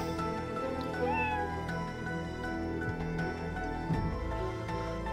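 A cat meows in the action platformer Skul the Hero Slayer, a brief high mew over a dense, steady game soundtrack with a low thump near the end.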